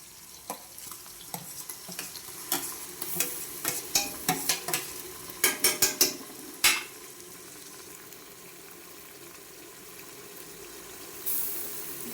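Onions, cinnamon, fennel and ginger-garlic paste sauté for chicken biryani under a low sizzle, with a run of sharp utensil clacks and scrapes against the pot early on before the frying settles into a quieter hiss.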